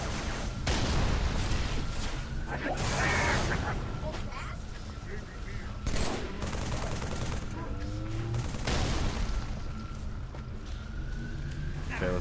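Rapid bursts of Covenant carbine and other weapon fire in a Halo 3 battle, dense volleys with explosions running continuously through the whole stretch, with a voice talking over the combat.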